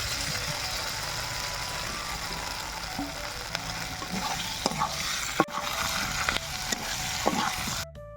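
Spice paste frying and being stirred for a village-style fish curry on a clay wood-fired stove, with loud continuous sizzling and repeated close scrapes of the spoon against the pan.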